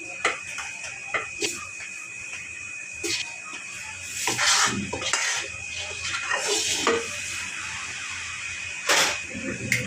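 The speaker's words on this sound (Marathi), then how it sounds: "हे गूळ आणि खोबरं मिक्स केलेलं ताटात पसरवून घ्यायचं आहे" Jaggery and coconut mixture being spread across a ghee-greased plate, with repeated clinks and scrapes of a utensil on metal at an irregular pace, some louder knocks, and voices talking softly in the background.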